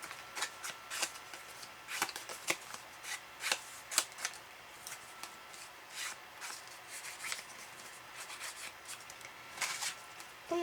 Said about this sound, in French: on va y mettre un petit coup d'encre à nos papiers